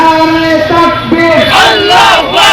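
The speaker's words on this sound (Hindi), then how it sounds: "भारत विरोधी नारेबाजी शुरू हो गई।" Outside an Indian embassy a large crowd chants anti-India slogans, loud massed voices shouting in unison, swelling and rising in pitch over a few seconds.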